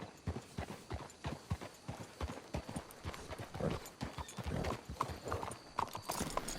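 Horse hooves clip-clopping in the video game Red Dead Redemption 2, a steady, brisk rhythm, close and clear, with occasional louder thuds and no speech.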